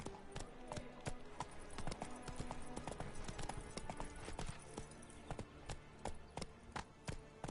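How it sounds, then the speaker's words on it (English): A horse gallops in The Witcher 3, its quick rhythmic hoofbeats pounding steadily and close throughout, with a brief voice over the running. "Run, Roach"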